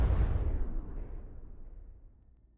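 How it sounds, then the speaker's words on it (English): Twin nuclear blasts in the naval strategy game Rule the Waves 2 produce a deep, booming rumble that starts strong and slowly fades over a couple of seconds, with no voices. "Just 2 giant nuclear explosions."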